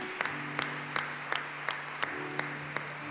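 A church congregation applauds the word of God, a steady wash of clapping under a sustained organ-like tone, with sharp regular beats punctuating it roughly every third of a second.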